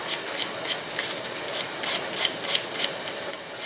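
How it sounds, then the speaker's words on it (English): Wooden sticks being sanded by hand with sandpaper, giving a steady series of short rasping strokes in a quick rhythm, close and clear with no talking. "Okay, so I'm going to strip these with some sandpaper."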